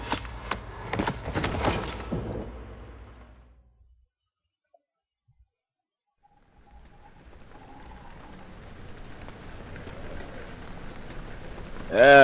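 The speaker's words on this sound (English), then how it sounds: "What is that? Is that rain?" Rain in the horror video game Amnesia rises after a near-silent gap as a soft, hissing wash that slowly grows louder to the end, following earlier clattering sounds.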